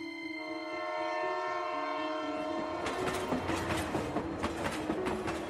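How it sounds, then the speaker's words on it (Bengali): The Howrah–Adra Express passenger train runs along the tracks, a sustained horn or whistle tone giving way to rhythmic clattering of wheels over rail joints, moderately loud and continuous with no voices. "ট্রেন চলছে, হাওড়া আদ্রা এক্সপ্রেস।"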